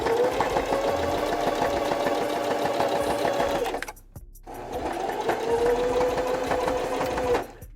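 A sewing machine stitches around a hand shape cut from fabric, a steady whirring drone that runs for nearly four seconds, stops briefly, then resumes at a similar steady pace.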